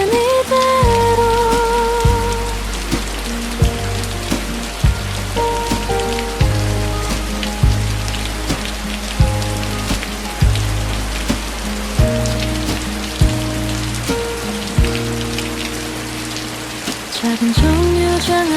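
Steady rain on a surface plays as soothing white noise beneath a relaxed lo-fi café beat, its soft hiss continuous and even throughout, with light pattering droplets mixed into a mellow bass and keys groove.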